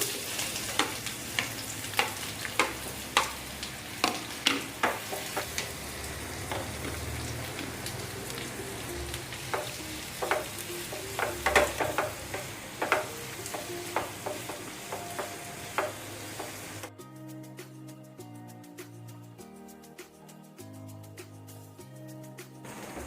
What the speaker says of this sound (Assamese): এতিয়া মই কাটি ৰখা পিয়াজখিনি অলপ ভাজি লম।